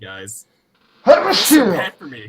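One loud, close sneeze with a vocal burst bursts out between bits of casual speech from a nearby talker.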